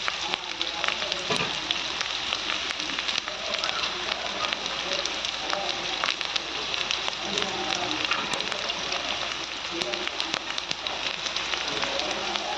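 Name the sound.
small onions frying in a pan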